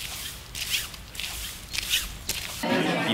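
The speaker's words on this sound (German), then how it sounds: "Das eklige Schrappen meiner Nylonjacke." A nylon jacket rustling and scraping, close to the microphone: several rough swishing strokes, then a louder continuous crinkling rub at the end.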